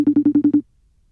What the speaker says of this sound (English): We got it ringing right now. See if she pick up the FaceTime.